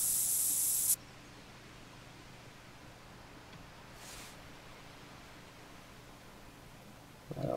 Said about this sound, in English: we're gonna spray scent